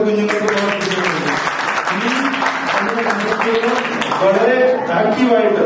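An audience claps for parents and children at a Sunday school church programme, a steady patter of applause running beneath a speaker's voice throughout.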